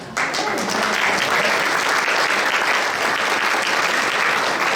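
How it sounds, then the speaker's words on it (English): Loud, close applause filling a Republican club meeting room, bursting in abruptly and holding steady as a dense wash of many hands. "That applause will be taken by Ben and his team"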